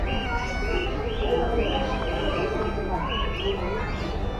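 Birds in an aviary at Alipore zoo chirp and coo in scattered calls over a dense background murmur of visitors.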